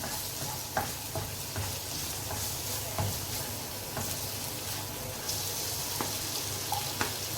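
Spices and vegetables cook in a pan for a pasta sauce, a low steady hiss of frying close by with occasional soft taps and stirring clicks and no talking.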